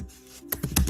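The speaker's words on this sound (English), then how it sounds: "can you mute yourself when you're typing?" A computer keyboard is typed on during an online tabletop roleplaying game session, a short run of loud, close clicking keystrokes after a quiet start, with no talk over them.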